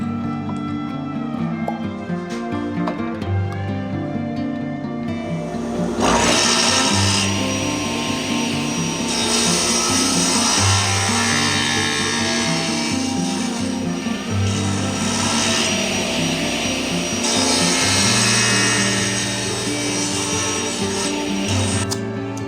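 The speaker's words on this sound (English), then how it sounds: "I used some setup blocks and a stop block on a crosscut sled, which allowed me to get 6 identical sections from this piece of stock." A table saw cuts wood stock into identical sections on a crosscut sled with a stop block, its loud whining blade rising into repeated cuts over a constant motor hum, several cuts one after another and no voices.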